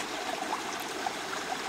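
Vivian Creek flowing on San Gorgonio mountain, a steady broadband rush of running stream water with small trickling splashes, close and continuous, no voices.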